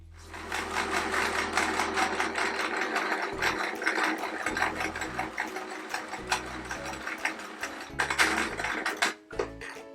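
A sewing machine stitches quilt template pieces together for a patchwork block, running in a rapid mechanical whir with short starts and stops, close by and without speech.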